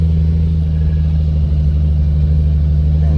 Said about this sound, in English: I gotta just go and drive around in circles the whole time. Just keep it full lock and go.